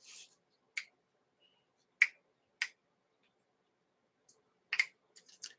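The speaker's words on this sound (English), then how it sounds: "I snap my fingers and the cat freaks out." Sharp, isolated finger snaps ring out one at a time against near silence, spaced irregularly with a quick cluster toward the end.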